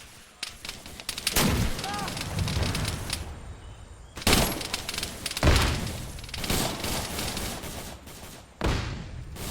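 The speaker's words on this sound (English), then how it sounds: "I think we're getting shots from the north" Bursts of rifle and machine-gun fire in an Arma 3 battle, with several loud volleys separated by short pauses and a voice talking over the shooting.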